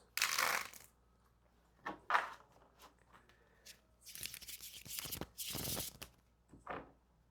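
Tarot cards being shuffled in several separate bursts of riffling and sliding, close and quiet, with pauses between handfuls.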